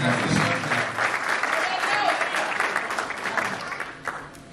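Church congregation bursting into sustained applause, a dense, loud wash of clapping with cheers and voices mixed in, fading slightly toward the end.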